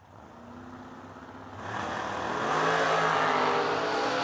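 A 1955 Chevrolet and a 2019 Corvette Roadster launch in a drag race, engines building from a moderate rumble to a loud, roaring surge as they pull away.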